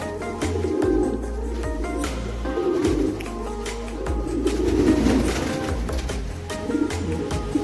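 Pigeons coo steadily in a home loft, several birds overlapping in soft repeated throaty calls, close and continuous with faint rustling and background noise.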